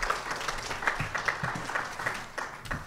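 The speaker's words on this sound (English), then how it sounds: "applause, applause." Audience applause at a morning talk on growth expectations on land, air and sea, a steady patter of many hands clapping for about three seconds with a few sharper claps standing out.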